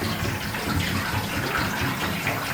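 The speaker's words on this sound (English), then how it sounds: "I'm gonna put water in the tank to see if it leaks around the fitting or not" Water poured into the fuel tank of a 1977 Ford to check a fitting and welds for leaks; a steady, close rushing gush runs throughout without a break.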